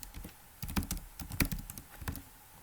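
Someone types quickly on a computer keyboard while filling in details on a web form, making bursts of close, crisp key clicks with brief gaps between them and no talking.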